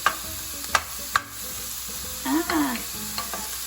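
Tomatoes stirred around a hot pan, with a few sharp utensil knocks followed by a brief scraping, swishing stir over a faint steady sizzle, close and moderately quiet.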